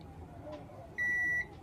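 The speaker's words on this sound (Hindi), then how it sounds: "ये बजर रेंज में रख लिया" A multimeter set to its buzzer range gives one clear, steady beep of about half a second while the buttons of a Sony car stereo are checked during repair, heard close and alone over faint room noise.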